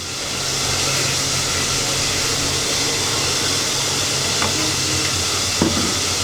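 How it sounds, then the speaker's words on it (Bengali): Oil sizzling steadily in a pan while frying fish masala, a loud continuous hiss with a faint low hum beneath and a couple of small pops near the end. "প্রথমে আমি তেল দিয়ে দিচ্ছি"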